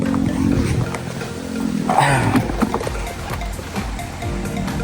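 Steady wash of sea waves rolling onto shore, a continuous rushing noise with a brief swell of splashing near the middle.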